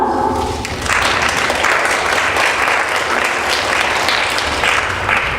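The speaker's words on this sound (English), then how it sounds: "I think they deserve some applause." Audience applause in a courtroom-style gathering on family law, starting after a brief trailing voice and then swelling into sustained, loud clapping that holds steady to the end.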